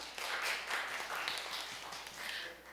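An audience applauds a presenter at a startup leaders' pitching forum in Daegu, a soft, steady wash of clapping heard from a distance, fairly quiet throughout.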